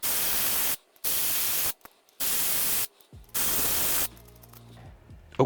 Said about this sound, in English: So now I'm going to use my electric ratchet to finish loosening these up.